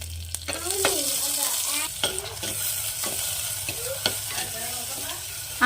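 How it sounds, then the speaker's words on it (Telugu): Chopped onions and green chillies sizzle steadily in a pan for keema while a utensil scrapes and stirs them in a repeated rhythm, close and fairly loud. "ఇట్లా ఇట్లా కలపాలి ఇక కొద్దిగా ఫ్రై కాగానే వేసేద్దాము"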